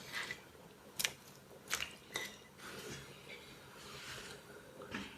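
Pita bread and black fungus go into boiling lamb broth as a soft, wet squish and a few brief splashy drops against a quiet bubbling background, close and alone.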